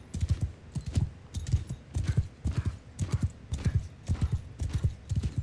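A horse's hooves clip-clop in rhythmic bursts in the Mount & Blade II Bannerlord video game, a steady repeating gallop, close and moderately loud.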